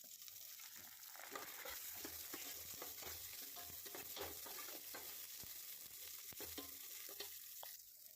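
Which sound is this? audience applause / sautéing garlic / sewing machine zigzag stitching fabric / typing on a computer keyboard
sautéing garlic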